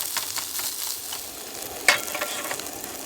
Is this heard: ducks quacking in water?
no